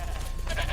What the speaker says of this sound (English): Hello, goat. I would kill you, but I don't have time.